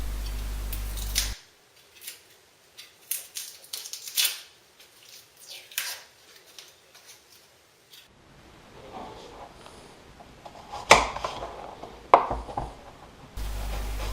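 A knife cuts through a green pepper on a board in a home kitchen, with sharp, irregular snips and crunchy slicing strokes close by, separated by quiet gaps and followed by louder rustling chops.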